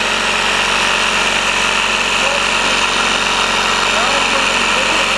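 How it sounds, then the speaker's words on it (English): Air compressor runs continuously during tire inflation, a steady close mechanical hum and hiss that holds at one level throughout while someone speaks over it. "Now I'm putting it off while the compressor is still running."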